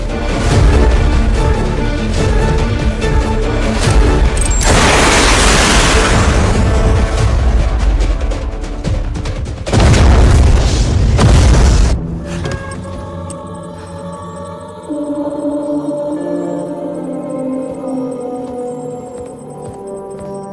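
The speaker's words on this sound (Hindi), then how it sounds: "30 सेकंड में धमाका हो जाएगा।" A missile explosion in a Hindi-dubbed South Indian action movie erupts as a long, loud, rumbling blast with a second surge of roaring debris, then gives way to a quieter musical score.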